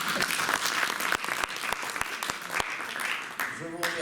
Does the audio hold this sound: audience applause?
yes